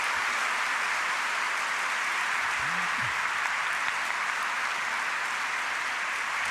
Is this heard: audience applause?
yes